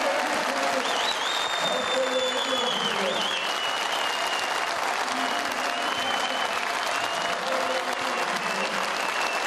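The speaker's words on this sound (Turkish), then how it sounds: "Şimdi bir de Kırşehir'i ayakta görelim ve alkışlayalım." A large crowd at a political party congress in Kırşehir, Turkey, stands and applauds, producing steady, dense clapping that continues at full loudness throughout, with a few faint whistles and crowd murmur rising above it.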